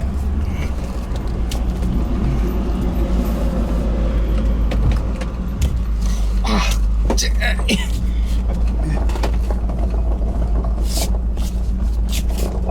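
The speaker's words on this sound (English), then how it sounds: "It's definitely misfiring." A misfiring Land Rover engine with a flashing check engine light and no power steering gives a loud, continuous low rumble close by, while voices talk over it.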